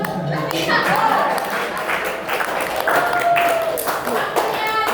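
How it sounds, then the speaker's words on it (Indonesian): A classroom debate audience claps in a loose, uneven burst while voices talk over the applause. "Oke, tepuk tangan"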